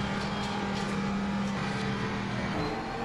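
The engine of a Lamborghini Huracán Super Trofeo Evo in the rFactor 2 racing game drones steadily and loudly at a constant pitch throughout, with no voices.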